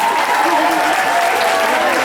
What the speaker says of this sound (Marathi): या सगळ्यांसाठी एकदा जोरदार टाळ्या